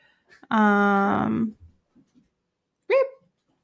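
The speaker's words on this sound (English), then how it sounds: "These dogs." A dog gives a long, loud, whining bark followed after a pause by a second short yap, close by in an indoor setting with faint background sounds.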